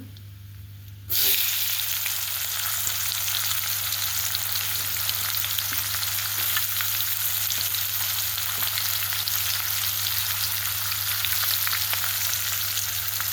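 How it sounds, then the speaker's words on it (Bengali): Chopped onions drop into hot oil already spiced with cloves, cinnamon, cardamom, a dried red chilli and a bay leaf for mustard chicken curry. After a quiet second, a loud, steady sizzle starts abruptly and holds evenly, with no talking. "পেঁয়াজ কুচি দিয়ে দেবো।"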